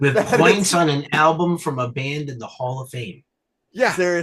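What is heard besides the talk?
No everyday noise stands out behind the speech.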